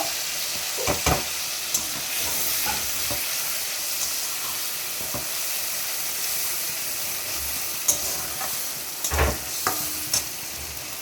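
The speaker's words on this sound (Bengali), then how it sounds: "মশলাটা দিয়ে কিছুক্ষণ নাড়াবো, কষিয়ে নেব।" Prawns stir-fried with spice paste in a hot pan give a steady, close sizzle and hiss, broken by scattered scraping clicks from stirring, with no voices.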